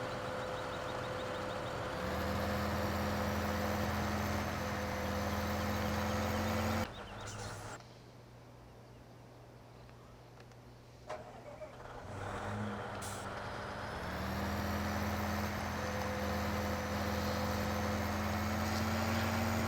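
A tractor engine in Farming Simulator 15 runs steadily and loud for several seconds, then drops to a quieter idle hum. It revs back up to full volume near the end.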